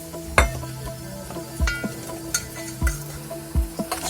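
Meat frying and being stirred in a pot over a firewood fire in a village kitchen, with crushed pepper added: steady sizzle under several sharp scraping and clinking stirs at irregular intervals, close and moderately loud, with no voices.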